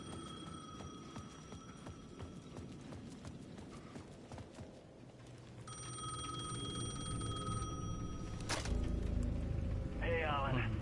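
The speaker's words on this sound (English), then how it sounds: "The payphone at the edge of the plaza was ringing again." A payphone at the edge of a plaza rings in the video game Alan Wake 2, a bright electronic ringing that emerges partway through and sits under a voice and low ambient game music.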